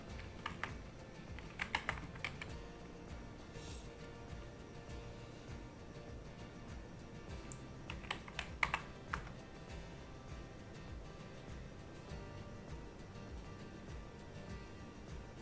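Bursts of typing on a computer keyboard, with two short flurries of key clicks separated by long quiet stretches, faint and close over a low steady room hum, with no voices.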